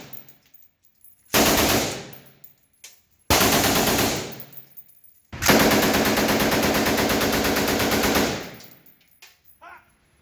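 Ultimax light machine gun firing in the game H3VR, three sustained automatic bursts, short, short, then a longer roughly three-second stream, loud and close with no talking.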